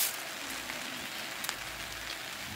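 Rain falls at a campsite in Kaeng Krachan National Park, Thailand, as an even, close patter on surfaces with no voices.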